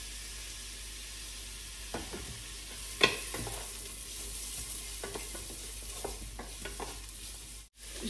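Onions frying in oil in a pan, a steady soft sizzle with occasional scraping stirs and utensil knocks against the pan, close and moderately quiet, with no voices.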